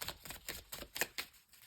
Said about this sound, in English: I just started shuffling this again